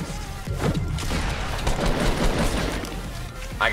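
Fortnite battle: dense, busy gunfire and impact noise rolling continuously for a few seconds, loud and close, with a voice faintly mixed in.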